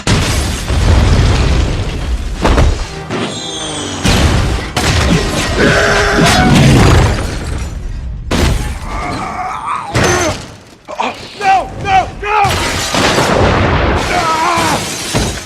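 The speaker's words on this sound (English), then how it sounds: "Grenade!" Loud, chaotic game-style combat: grenade blasts and booming bursts mixed with crashing debris and gunfire-like pops, interrupted by shouted voices and music-like tones.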